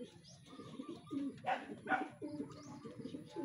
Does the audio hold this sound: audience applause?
no